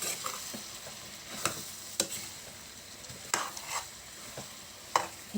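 Pork being mixed with meat masala, cumin powder and red chili in a hot pan for a bamboo shoot dish. Irregular sharp spoon scrapes and knocks sound over a continuous low sizzle, without speech.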